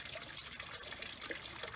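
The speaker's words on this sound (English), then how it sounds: "Got the waterfalls working," Garden pond waterfall fed by a pump trickles and splashes steadily, a soft continuous flow of water heard close by with no talking.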